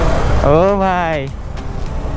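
KTM Duke 390 motorcycle engine revving up and easing off while being ridden gently, a loud rising-then-falling whine in the first half that settles into a low rumble.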